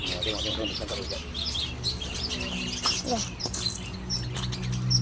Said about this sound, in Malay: Namanya burung cinta. Ada burung cinta.